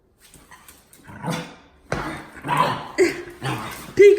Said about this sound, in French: Non mais il est enragé ce chien